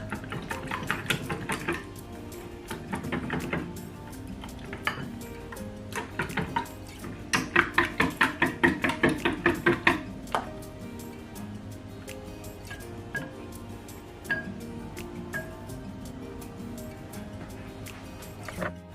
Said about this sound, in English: So you just whisk it together.